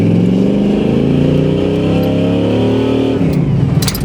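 A 1989 Chevy Blazer K5 on 40-inch tires pulls hard, its engine note climbing in steady rising harmonics for about three seconds before easing off, loud and close with no talk.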